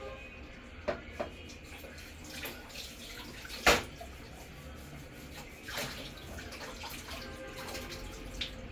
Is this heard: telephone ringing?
no